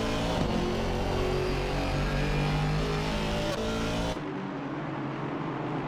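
GT4 race cars roar at speed through a sim racing circuit, a steady loud engine drone with shifting pitch that cuts off abruptly near the end, leaving quieter engine noise.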